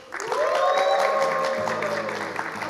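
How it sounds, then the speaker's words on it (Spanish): Studio audience applause on a Spanish television talk show rises in under tonal sounds, with a sustained musical tone or jingle sweeping above a light patter of clapping for nearly three seconds. "Un aplauso para este servidor."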